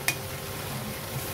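Spice masala cooks in oil for a Marathi potato and cauliflower curry, a faint low sizzle with light stirring and one brief clink near the start.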